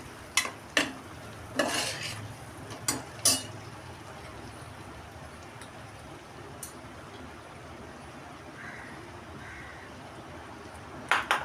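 Potatoes being sautéed in a pan give a soft, faint sizzle, with several sharp clinks of a spoon scraping and stirring early on and again at the end, under otherwise quiet background.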